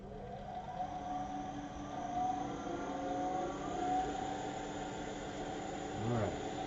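A wood lathe spins at about 1800 rpm while turning a long-stem goblet, giving off a steady, moderately loud whir with a faint tonal hum that holds throughout.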